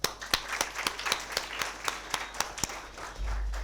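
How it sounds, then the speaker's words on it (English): An audience at a stock-market talk in Ahmedabad gives a short round of applause, with steady, moderately close clapping that thins slightly before a low rumble at the end. "I think a round of applause"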